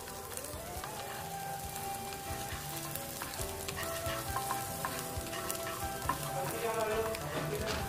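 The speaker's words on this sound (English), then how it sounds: "And add chopped garlics along to it. And fry the garlics also." Chopped garlic and onions fry in a pan, giving a steady close sizzle with bursts of crackling as they cook toward golden brown.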